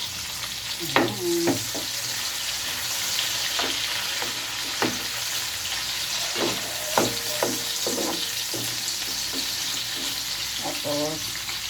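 Garlic and onion sautéing in a pan give a steady sizzle, with intermittent scraping stirs of a utensil and a brief spoken word over it.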